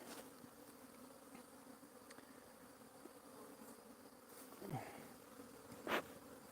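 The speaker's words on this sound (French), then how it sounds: "On va s'attaquer aux 2 ruches suivantes." Honeybees buzz around open hives during an inspection, a faint steady drone with a few individual bees passing close by in louder whining swells, and no voices.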